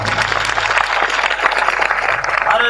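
Loud, dense applause from an audience at a political speech in Amethi, a steady wash of many hands clapping close by for the whole stretch.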